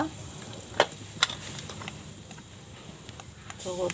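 Cumin seeds and asafoetida crackle in hot oil for a palak paneer base, a soft steady sizzle with a couple of sharp pops and clinks from a spoon or lid, while a voice speaks quietly.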